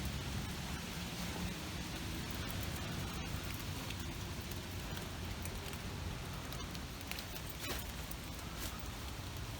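Rain falls steadily on a mountain as an even, faint hiss of droplets spread across a long stretch, with a few soft taps and no talk.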